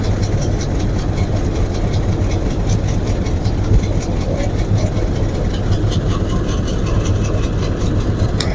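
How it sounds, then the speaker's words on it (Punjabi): The wooden-bodied train between Nangal and Bhakra Dam runs with its engine giving a constant loud, low drone, marked by faint regular clicks and rattles. "ਆਹ ਲੱਕੜ ਦੀ ਟ੍ਰੇਨ ਜਿਹੜੀ ਨੰਗਲ ਤੋਂ ਭਾਖੜਾ ਡੈਮ ਤਾਈਂ ਚੱਲਦੀ ਆ"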